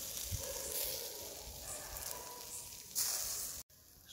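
Chicken sizzling on a smoky homemade charcoal barbecue grill, a steady close hiss with faint crackles and a brief louder burst near the end.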